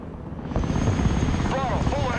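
An Osprey tiltrotor aircraft flying in the Broken Arrow video game, a close, continuous rotor drone and engine roar that swells after a half second, with a short radio voice cutting in near the end.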